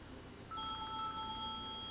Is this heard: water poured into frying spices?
no